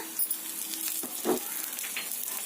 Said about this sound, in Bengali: রসুনের যতক্ষণ কাঁচা গন্ধটা না যায় ততক্ষণ ভাজতে হবে